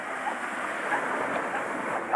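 Steady broadband wash of sea waves and surf, continuous and fairly loud, with a faint rush of wind over it.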